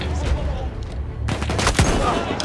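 Battlefield 1 gunfire cracks in a rapid fusillade of close, loud shots, with a dense burst near the middle and scattered reports around it against steady game noise.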